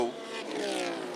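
BMW M3 race cars passing down the main straightaway at Lime Rock Park, a sustained harmonic engine drone with a rising whine over about a second, mid-distance and moderately loud beneath a commentator's voice.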